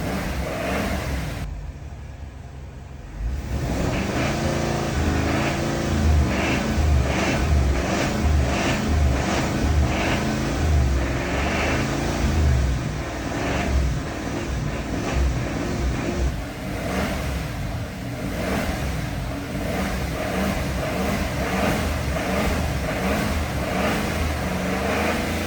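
A GM 6.2 engine with a fault runs rough and knocks with a clattery, diesel-like tone, idling close by at a steady loud level after a brief quieter start. No one talks.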